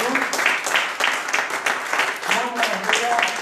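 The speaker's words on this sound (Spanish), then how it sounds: "Den un aplauso al Señor Jesús." A church congregation applauds during a Sunday worship service, with rhythmic bursts of clapping overlapped by voices calling out and cheering.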